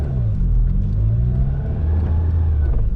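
A 1995 Peugeot 106 Rallye with its 1.3 engine idles while stopped, giving a steady, fairly loud low rumble close by that holds an even drone throughout with no talking.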